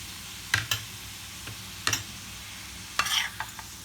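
A utensil scrapes and knocks against a pan in a few sharp strokes as chopped tomato and coriander are stirred into tawa chicken masala, over a low steady sizzle.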